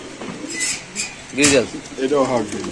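Pigeons coo in bursts at a pigeon market, close and fairly loud, mingled with nearby human voices talking over them.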